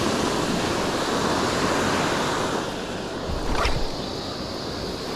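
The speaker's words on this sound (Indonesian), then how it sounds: "Ombak, ombak." Ocean surf washes onto a shore in Miyagi Prefecture, Japan, a steady loud roar of breaking waves mixed with wind buffeting the microphone.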